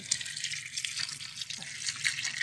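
Water pours steadily into a bucket while termite mushrooms are being grown, a continuous close rushing splash with no voices.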